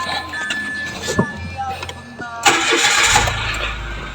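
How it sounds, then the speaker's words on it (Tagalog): Light handling clicks and a voice, then a car engine with a no-start fault, despite good fuel pressure and power to the coil, cranks and catches, settling into a steady close idle. "So i-start natin yung makina."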